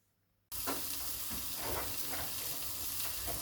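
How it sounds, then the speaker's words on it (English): Sliced onion, ginger and garlic hit a hot pan and burst into a loud, steady sizzle, with soft stirring scrapes running through the continuous frying hiss. "in the same pan, now I am going to roast onion, sliced onion, ginger and garlic."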